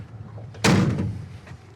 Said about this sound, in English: Doors open and shut, awesome.